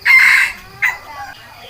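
A rooster crows loudly and close by on a farm where chickens are kept, one long crow followed by a shorter second call fading into quieter clucking.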